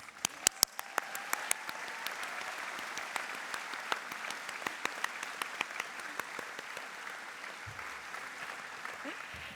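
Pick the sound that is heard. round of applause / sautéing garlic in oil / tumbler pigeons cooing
round of applause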